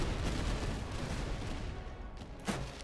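Battle din from the Master of Command strategy game: dense, continuous rumbling volleys of musket gunfire and cannon fire, loud and steady throughout, with a sharper blast standing out near the end.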